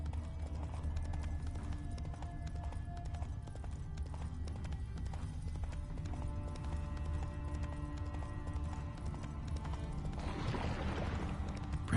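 Horse hooves clip-clop steadily in The Witcher 3 video game, a continuous rhythmic trot over a low ambient rumble, close and moderately loud throughout.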